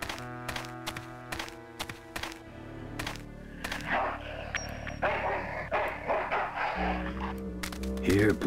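Dog barks in the Full Throttle adventure game, a series of sharp, evenly spaced barks at first, then mixed game sounds and someone talking over them.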